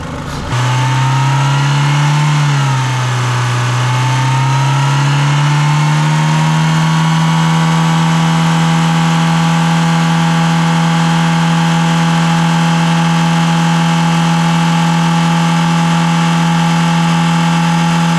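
A Renault F4R engine is run up to 5,000 RPM on a first start, with an exhaust system fitted. After a brief rise it settles into a loud, steady high-rev drone that holds without a break.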